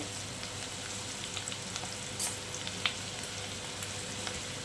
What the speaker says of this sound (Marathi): तर आता आपण ही भेंडी फ्राय करायला टाकूया